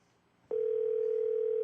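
While a call is placed on a telephone, a steady electronic line tone switches on abruptly after a half-second of quiet and holds at an even, moderate level to the end.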